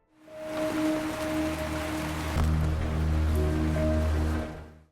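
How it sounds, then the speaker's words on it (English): Heavy rain pours steadily in a horror movie scene, a dense continuous hiss with low droning tones underneath, heard alone without voices. "the rain started pouring again"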